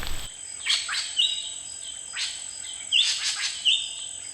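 Bright, high chirps and whistled phrases in Indonesia from a long-tailed bird that mimics other birds' calls come in two bursts, with a faint insect-like hiss steady in the background.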